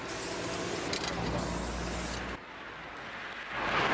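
Spray paint hisses onto a car in a loud continuous burst for about two seconds, cuts out abruptly, then resumes briefly near the end with a clicking nozzle.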